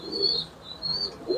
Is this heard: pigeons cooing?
yes